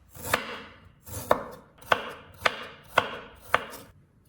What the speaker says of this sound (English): slice the ginger thinly and cut into strips